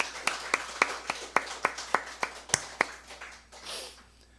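A church congregation at a Sunday service claps in unison, a faint, evenly spaced run of about a dozen sharp claps that fades into a softer wash at the end.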